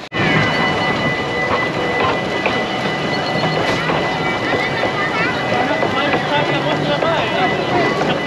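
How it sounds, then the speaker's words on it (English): Heavy rain pours down at the Efteling theme park in the Netherlands, a dense, constant hiss and patter at steady loudness throughout, with faint voices and bustle underneath. "twice I've came to the theme park, and twice it's chucked down with rain"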